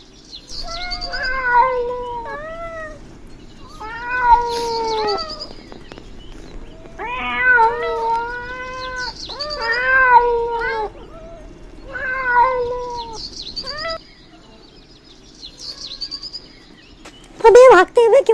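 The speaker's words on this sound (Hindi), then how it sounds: "बिल में बिल्लियों का लश्कर आ रहा है उठकर" Several cats meow and caterwaul in repeated drawn-out, wavering cries, some overlapping, fairly close and loud, ending in a sharper burst of yowling.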